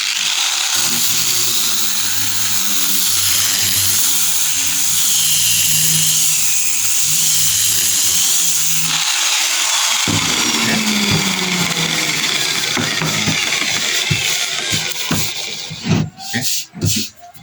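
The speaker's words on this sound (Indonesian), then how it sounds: "kita akan gerinda dulu ya" An angle grinder whines steadily and loudly as it sands a clear finish made from water-mixed Mowilex paint, the pitch and grinding texture shifting partway through before it winds down with scraping and clatter near the end.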